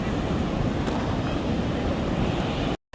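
Sea waves rolling in at a Konkan beach make a continuous, loud, broadband roar, heavily buffeted by wind on the microphone, with a brief dropout at the very end.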